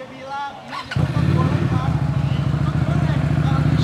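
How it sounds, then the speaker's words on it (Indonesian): A QJMotor SRV 250 AMT motorcycle's 250cc V-twin engine with stock exhaust cranks and catches, then settles into a loud, steady, throbbing idle close by, with a voice briefly heard before it starts. "Hanya dengan 250 cc Anda akan mendapatkan suara knalpot standar yang seperti ini"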